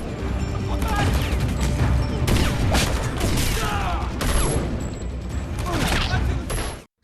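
A chaotic exchange of gunfire, rapid overlapping shots and bursts with crashes, loud and continuous throughout, set amid dramatic film sound.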